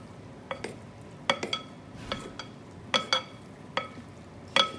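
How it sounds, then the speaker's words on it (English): Cooked pasta is tossed with pesto in a pan, producing about nine short, sharp scraping clatters at irregular intervals, some in quick pairs, close and fairly quiet over a low kitchen background. "now we're going to put this pesto in here, and we're just going to toss that gently"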